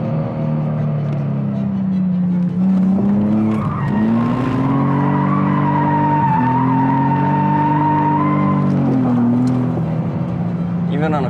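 A car sliding on a racetrack during an advanced driving session, tires squealing in a long sustained wail over steady engine drone, loud and close for about eleven seconds.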